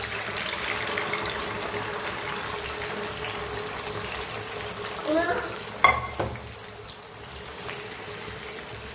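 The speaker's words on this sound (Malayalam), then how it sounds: "ഈ മിക്സ് നമുക്കിനി എണ്ണയിലേക്ക് ഒഴിച്ചു കൊടുക്കാം." Biryani onion masala mix, made from pressure-cooked onions, hitting hot oil for a Malabar dum wedding biryani, with a continuous frying sizzle, a brief pour, and a few clinks and stirring scrapes midway.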